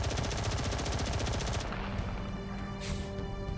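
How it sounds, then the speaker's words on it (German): Rapid automatic gunfire in the video game Space Engineers shoots into the ground, a loud dense stream of shots for about a second and a half, then a lingering roar of impacts and debris. "Doch, du kannst den Boden aufschießen."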